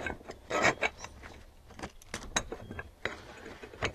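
Metal clamps come off a home toy-soldier casting mold and the mold halves are pulled apart, giving a few sharp metallic clinks and rattles with scraping handling noise, close and moderately loud.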